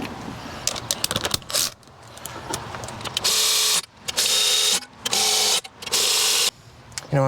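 A ratchet socket wrench runs down bolts on a 1970 Ford Falcon engine during engine and transmission removal. Close, loud mechanical whirring comes in three sustained bursts after scattered clicks and brief talk.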